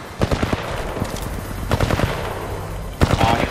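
Rapid automatic gunfire from a Titanfall 2 firefight comes in three loud, close bursts separated by short pauses.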